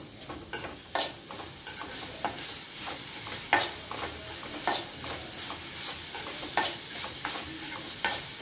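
Spices, turmeric powder and vegetables for masala bonda sauté in a pan, a continuous sizzle broken by repeated scraping stirs at a roughly regular pace, close and clear with no talking.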